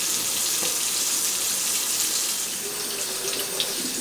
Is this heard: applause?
no